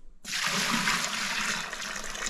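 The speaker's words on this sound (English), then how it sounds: "Right, 70 mil of water." Water poured in a steady, loud rush into a 20 litre bucket to mix screed mud, starting abruptly and running on close up with no talk.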